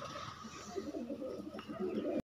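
Soft, repeated cooing from a domestic pigeon, a white-marked racing bird with leg rings, murmuring close by over a low hum, with faint voices in the background.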